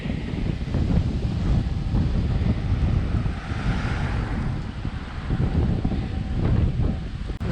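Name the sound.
north wind blowing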